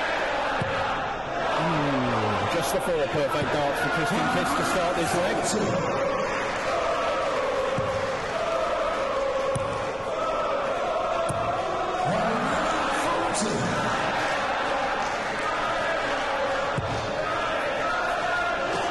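A noisy crowd at a European Darts Trophy match cheers and roars in waves with shouts and chanting, while a commentator talks over the steady din.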